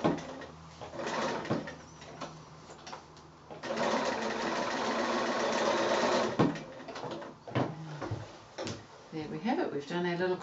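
Domestic sewing machine stitching a straight seam across quilted fabric for a wonky house snap bag, running in several bursts of whirring with pauses between, close and moderately loud, with a person talking over parts of it.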